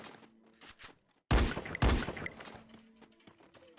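Loud gunfire bursts ring out in a multiplayer video game match, two sharp, heavy volleys close together that quickly fade into quieter game ambience, with no talking.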